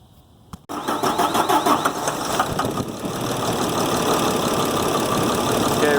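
A Cummins 5.9 diesel in a 2007 Ford F750 with an injector miss, starting abruptly and settling into a loud, clattering, uneven idle close by.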